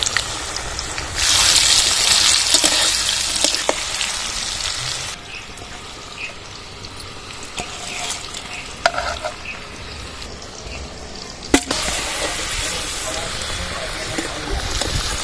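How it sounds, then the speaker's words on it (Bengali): Cut potatoes frying in oil with salt and turmeric for a winter vegetable khichdi, giving a close, steady sizzle broken by stirring clatter and occasional sharp knocks. "আলুর মধ্যে একটু লবণ দিয়ে ভাজবো তাড়াতাড়ি ভাজা হয়ে যাবে"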